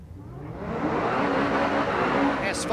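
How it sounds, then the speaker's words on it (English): A 2016 S550 Ford Mustang does a very aggressive burnout in the right lane of a dragstrip. The roar of the engine and the tire noise build steadily to a loud, sustained level with no break. "S550 Mustang doing the very aggressive burnout there in the right lane"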